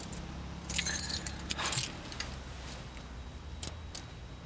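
A bunch of keys jangles and clinks in short bright bursts, close by, with a couple of quieter rattles afterwards against a low background hum.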